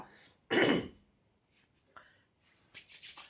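A single harsh cough or throat-clearing from a person with a cold bursts out close by, followed by quieter rustling and faint shuffling sounds.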